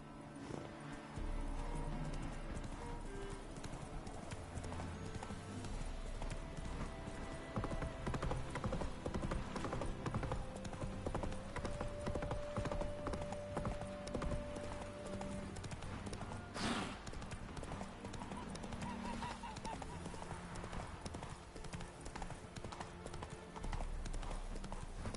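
Roach, Geralt's horse in The Witcher 3, gallops with a steady, loud clip-clop of hooves that runs the whole way through, over a dense game soundscape with a brief whinny-like tone partway in.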